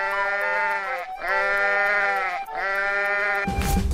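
Sheep in a 3D animal video game bleat three times in a row, loud, drawn-out wavering cries close up, with a burst of noise at the very end.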